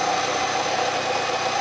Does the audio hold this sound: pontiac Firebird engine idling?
yes